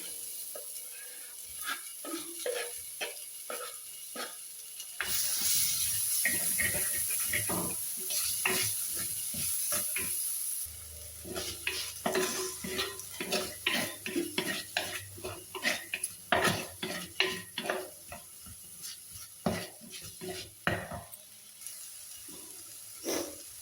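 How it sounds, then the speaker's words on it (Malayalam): Onion and tomato fry in a pan while a spoon scrapes and stirs them, bringing rhythmic metallic scrapes and knocks over a continuous sizzle that swells and softens, close up with no voices. "സവാള ചെറുതായി ഒന്ന് വഴന്ന് വരുമ്പോഴത്തേക്ക് നമുക്ക് ഇതിലേക്ക് തക്കാളി ഇട്ട് കൊടുക്കാം"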